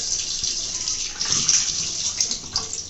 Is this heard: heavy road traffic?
no